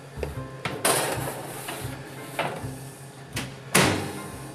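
Cake pans slid into a 360-degree oven, with a run of close clunks and bangs: the oven door and metal pans knocking, a rack scraping, and a final heavy thud as the door shuts.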